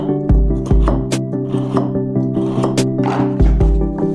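A dull knife is drawn over two sharpening stones set into a drilled stand, giving a series of close, rough rasping strokes in a steady back-and-forth rhythm over a low background hum.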